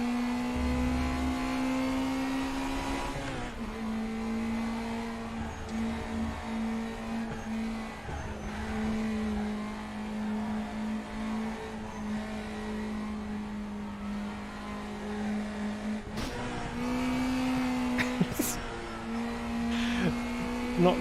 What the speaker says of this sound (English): Bouncing off the rev limiter on the downshifts.